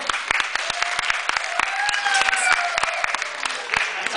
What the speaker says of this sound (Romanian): Să o primim pe Mădălina cu aplauze